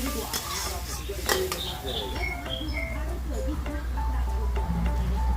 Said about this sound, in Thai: เดี๋ยวผัดให้สุกก่อน